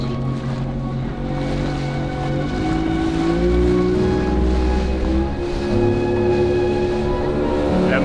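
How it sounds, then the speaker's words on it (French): Outboard motor of a heavily loaded chaloupe (small rowboat-style launch) carrying a group, working hard on open water in Mexico: a loud, steady engine drone with rising pitch, wind and waves washing around it, no talk. "Le moteur, il travaille fort pour mettre le poids qu'on a dans la chaloupe."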